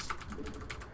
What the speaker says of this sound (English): you won't be able to hear my keyboard quite as much